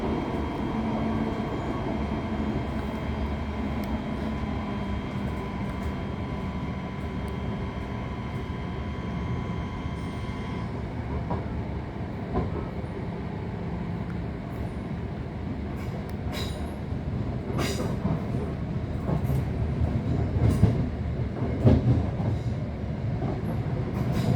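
A West Midlands Railway Class 323 electric train runs between Bromsgrove and Birmingham, heard from inside as a steady rolling rumble with motor whine, a pitch change midway, and later rail clicks and faint squeals.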